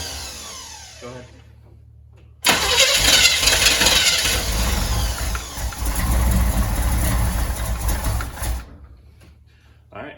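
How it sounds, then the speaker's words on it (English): A Chevrolet El Camino engine cranks loudly for about six seconds, a rough rhythmic churning that nearly catches but never settles into running, then cuts off, with brief voices before and after. "It's not quite starting, but it's close."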